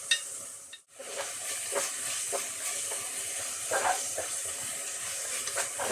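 Onion masala sizzling in a pan with the fried onions, a steady bright hiss of frying with occasional stirring scrapes and a brief dip near the start.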